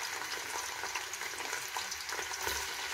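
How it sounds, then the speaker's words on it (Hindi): Chopped onion fries in hot oil for a Indian gobi chicken dish, a steady bright sizzle with soft crackles throughout, close and fairly quiet, with no talking. "थोड़ा सा ऑयल गर्म होगा और हम डालेंगे इसमें प्याज।"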